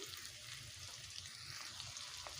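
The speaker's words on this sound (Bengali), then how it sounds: "আলুগুলোকে ভালোভাবে ভেজে নেব" Cut potato pieces, with skins on and a little salt added, frying in a pan: a steady low crackle and soft sizzle held at an even level throughout, with no talking.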